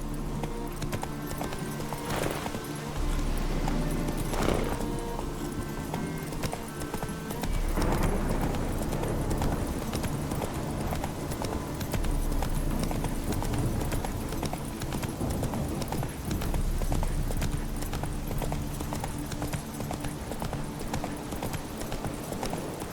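Roach, a horse in The Witcher 3, clip-clops along at a steady walking rhythm, hoofbeats close and clear over a continuous bed of game music and ambience, with no talking.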